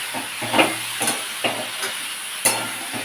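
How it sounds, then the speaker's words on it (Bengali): Cauliflower stalks being stirred in a pan with chili and turmeric powder, a spoon scraping in irregular strokes over a steady background hiss and soft sizzle. "লঙ্কা হলুদ দিয়ে সবজিটা মেশানো হয়ে গেছে"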